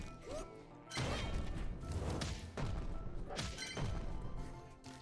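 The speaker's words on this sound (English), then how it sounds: "a death could cause an explosion, so that was actually cool" Video-game explosions chain together in Cuisineer, a run of loud crashing bursts and thuds in quick succession, one after another with no talking.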